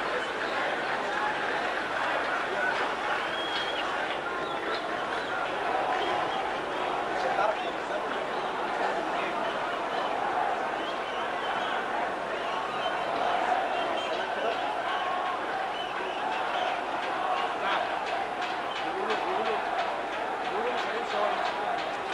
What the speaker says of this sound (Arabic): أنا عايزك تسمع معي الهتاف دلوقتي، يا ريت تعلي لنا الصوت يا جماعة، واضح إن فيه هتاف